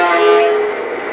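A model F-unit diesel locomotive's onboard sound system gives a steady tonal hum at idle, loud and close, easing slightly toward the end of the short stretch.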